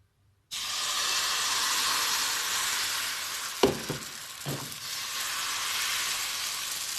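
Crepe batter sizzles in an oiled frying pan, a steady close hiss starting abruptly and holding throughout, broken by a couple of brief soft knocks from the pan or utensil.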